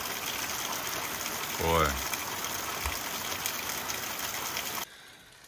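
Heavy rain pouring outdoors as a steady, loud hiss throughout, with a brief spoken word partway through before the sound drops off abruptly near the end.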